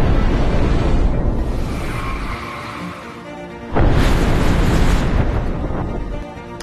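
A loud, sustained rushing roar with a sudden booming burst partway through, as a Japanese bullet train exits a tunnel with a tunnel sonic boom.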